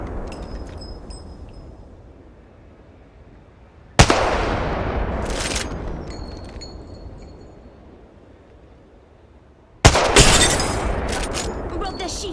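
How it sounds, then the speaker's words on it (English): Gunfire in the battle royale game Apex Legends: two sharp, loud bursts of shots, each followed by a long decaying tail and ringing metallic clinks, with quieter gaps between them. "Shots fired at me."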